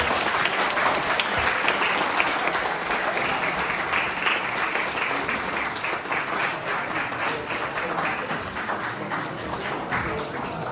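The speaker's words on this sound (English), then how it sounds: "Give them a round of applause." Sustained audience applause at a community sports awards ceremony, a dense, even wash of many hands clapping that continues steadily for about ten seconds with no voices over it.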